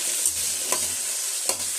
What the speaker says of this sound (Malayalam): ഉള്ളിയിട്ട് അങ്ങ് വാട്ടിക്കൊണ്ടിരിക്കുക.